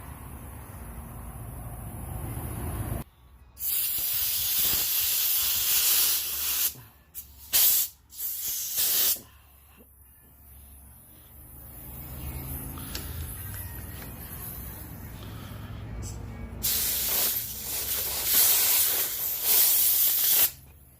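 Aerosol lubricant sprayed onto the steering post of a 2008 Polaris 330 ATV during a handlebar replacement, loud hissing bursts in three or four close, separate sprays of varying length with quiet handling between.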